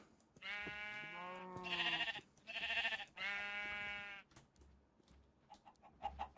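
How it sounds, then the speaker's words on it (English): Minecraft sheep bleating in a video game, three long wavering bleats in quick succession, clear and close with no talk over them, followed by faint scattered game sounds. "There's sheep."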